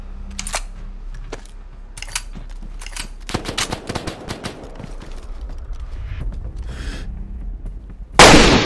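Gunfire in the DayZ video game as a player is shot at through a wall, with scattered single shots and quick bursts cracking out across the scene and one loud blast at the end.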